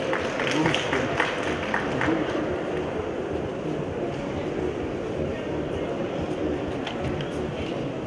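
An audience claps for a competitor at the Tea Latte Battle 2020 barista contest in Moscow, a sustained wash of applause lasting several seconds with voices heard in the room.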